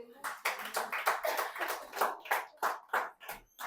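A church congregation claps at a Sunday service, about a dozen sharp, fairly even hand claps in a quick rhythm, close and clear, with faint voices mixed in.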